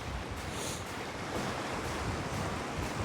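Strong wind during Storm Dennis on the Welsh coast, a continuous loud roar and rumble buffeting the microphone, mixed with crashing surf, with no pauses.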